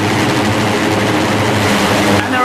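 Racing motorcycles of the MotoGP Rookies Cup rev hard on the grid before a race start, a loud, dense and steady engine roar filling the whole moment with no break.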